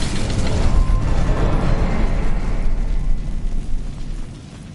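The Incendio fire spell in Hogwarts Legacy goes off as a loud, dense, roaring blast that fills the first seconds and then gradually fades away.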